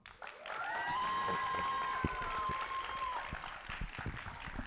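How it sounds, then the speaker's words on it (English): An audience at a lecture event breaks into a sustained round of applause, a dense, steady wash of clapping with a brief whistle-like tone rising over it before the noise tapers off. "give a loud round of applause and show your appreciation"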